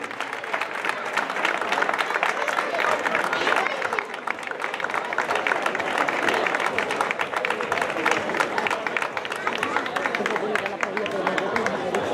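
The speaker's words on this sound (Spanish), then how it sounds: "Un gran aplaudimiento, un gran aplaudimiento." A crowd at a club plaque ceremony applauds at length, sustained dense clapping with murmured voices and chatter mixed underneath, steady and fairly distant.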